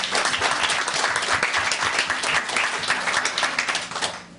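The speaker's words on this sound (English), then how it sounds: "Would you join me in giving SEIU a round of applause?" Steady, dense applause from a crowd at a community input meeting in Lake Worth, sustained for several seconds before tapering off at the end, with no talking over it.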